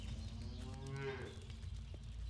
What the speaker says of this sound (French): J'ai pas envie que mes vaches se barrent.